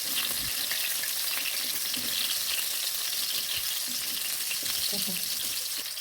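Ginger, garlic and chili sizzle and crackle in hot oil for a chicken caldereta, a steady dense frying hiss running throughout with faint stirring clatter, no voices.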